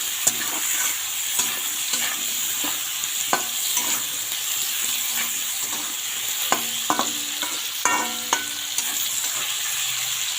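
Ridge gourd and jackfruit seeds frying with salt and turmeric in a pan, a constant sizzle punctuated by irregular spatula taps and scrapes against the metal.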